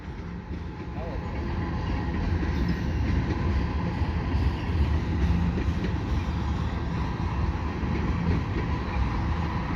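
A long CN freight train hauled by five engines crosses the Lachine Canal bridge westbound, a continuous heavy rumble and rolling clatter that builds and holds, with faint voices in the background.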